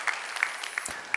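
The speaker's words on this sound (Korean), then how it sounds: "귀한 찬양 감사하면서 박수 한번 해주셔요." Church congregation clapping after a hymn during a worship service, a short burst of scattered hand claps at moderate distance, fairly quiet, with no talking.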